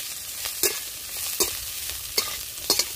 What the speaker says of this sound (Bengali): এবারে আমি ভালো করে ফোড়নের সঙ্গে মাছগুলো মিশিয়ে নিলাম।